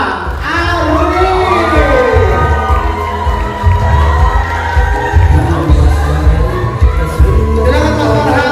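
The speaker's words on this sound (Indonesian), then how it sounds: "Beri tepuk tangan yang meriah untuk scriptwriter kita, Farhan Aruni." A press-conference audience for the series Ganteng-Ganteng Genteng loudly cheers and claps for the scriptwriter, a dense, continuous crowd roar with whoops and shouted voices.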